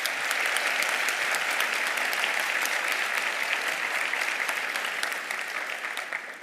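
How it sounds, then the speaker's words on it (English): Steady audience applause fills a luncheon hall honoring Kathie Lee Gifford, a dense wash of many hands clapping at even loudness before tapering slightly at the end. "Now, please give them a round of applause."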